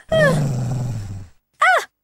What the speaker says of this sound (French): Il aboie et il peut devenir méchant.